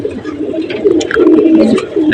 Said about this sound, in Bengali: গরমে কবুতরগুলো একদম চিপায় গেছে